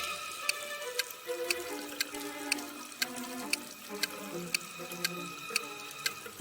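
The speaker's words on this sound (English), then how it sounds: "slowly getting filled with water coming from a faucet on the wall" Water runs steadily from a wall-mounted faucet into a sealed room, a continuous close splashing flow with faint regular ticking throughout.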